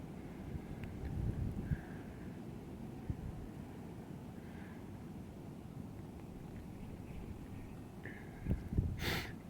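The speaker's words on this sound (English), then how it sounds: "That wind is crazy." Strong blizzard wind buffets the microphone in a snowstorm in Enfield, Connecticut, a steady low roar with gusts swelling around the middle and near the end.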